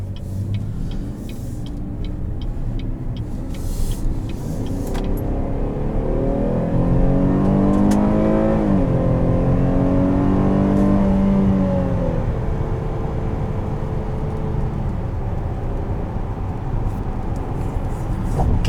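A 2020 Buick Enclave Essence SUV pulls away and accelerates from inside the cabin, its engine rising through the gears with a whirring climb and shift, then settling into a steady road drone.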